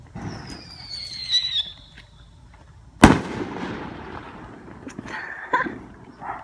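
A sharp firework bang cracks out midway, preceded by a whistling rise and followed by scattered pops and crackles at a distance.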